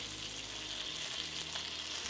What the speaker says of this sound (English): I think you're gonna start hearing sizzling